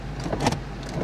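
The power window of a car that has sat unused for a long time moves with a brief whirring motor hum, close and fairly quiet.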